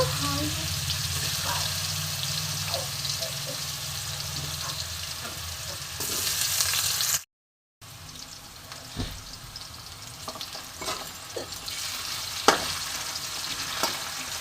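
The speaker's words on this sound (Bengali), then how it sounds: "প্রথমে দেখো আমি আলুটা ভেজে নিচ্ছি" Potato strips fry in hot oil with a continuous bubbling sizzle that is louder at first. After a short gap it continues more quietly with scattered clinks and light handling noises.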